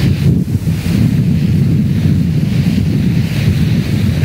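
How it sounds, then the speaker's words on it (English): Rough open-ocean waves and strong wind in the Drake Passage, recorded aboard a ship at sea in bone-chilling conditions, with a steady, loud, continuous roar of surf and wind buffeting the microphone throughout. "That's ocean, folks."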